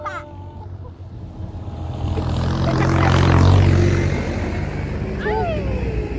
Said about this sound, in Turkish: Aha ne oluyor traktör geliyor.